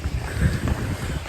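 Wind buffets a microphone outdoors, producing a loud, continuous low rumble and roar that swells and dips unevenly, with no talking over it.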